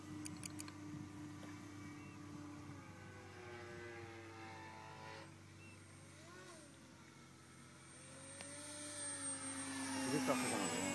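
An Extra 300 electric RC model airplane on its maiden flight, its motor whining steadily and rising in pitch as it accelerates, moderately loud and somewhat distant, with people talking over it.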